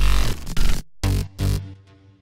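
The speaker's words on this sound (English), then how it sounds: "And the pluck by itself sounds like this." A synthesizer pluck from an electronic dance drop plays as a short sequence of loud, bright rhythmic hits with brief pauses, ending on a fading tail.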